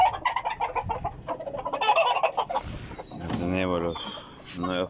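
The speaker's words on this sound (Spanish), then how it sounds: "Tenemos los nuevos pollos que están" Young fighting roosters clucking inside a coop, a run of quick close clucks followed by drawn-out crowing calls, with someone speaking between them.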